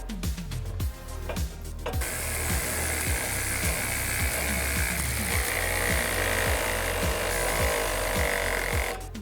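Ratchet work on 10mm driveshaft bolts of a 2010-2014 F-150 Raptor: close, regular clicking runs steadily over a continuous loud mechanical whir and hiss, with a burst of sharper clicks at the very start.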